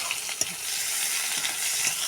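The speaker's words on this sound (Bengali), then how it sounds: "এরপরে আমি পেঁয়াজ অ্যাড করলাম" Onions sizzle in hot oil tempered with cumin, cinnamon, cardamom, cloves and dried chilli, a steady frying hiss with a few light stirring clicks and no talk.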